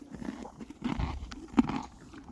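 A horse, a mare, crunching carrots as she eats: faint, irregular crisp bites and chewing close by, with soft rustling between them.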